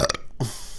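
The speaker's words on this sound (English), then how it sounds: "I'm going to have to burp" A single short, loud burp, close up and alone, with a brief guttural rasp right after a quick intake of air.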